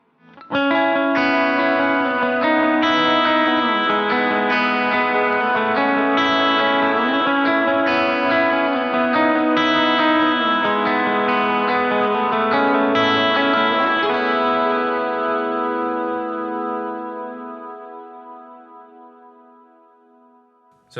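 A clean electric guitar tone through a Strymon Iridium amp and cab pedal, set with worship-style settings, rings in sustained, shimmering chords with effects and reverb, then fades out slowly.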